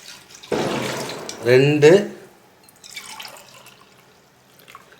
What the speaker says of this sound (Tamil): இதில் இப்போ 3 கிளாஸ் தேங்காய் பால் சேர்த்துக்கலாம்.